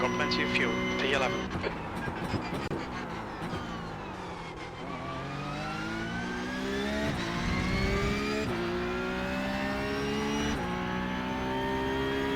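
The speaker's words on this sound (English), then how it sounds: "Sounds great, obviously. Being a Porsche 911." A Porsche 911 race car engine in the iRacing simulator climbs through rising revs with several gear changes over twelve seconds, loud and continuous, while a person talks over it.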